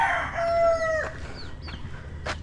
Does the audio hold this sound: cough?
no